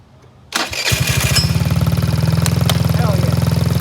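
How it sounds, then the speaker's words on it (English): A Taotao small engine cranks briefly on its starter, catches and settles into a loud, steady, fast-pulsing idle up close, with no talking over it. "I just want to make sure that the starter still works."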